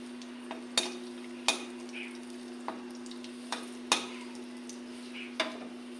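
Dried chilli, cardamom, cinnamon and cloves temper in oil with a faint, low sizzle. Sharp metal spoon clicks against the pan come at irregular intervals over a steady background hum.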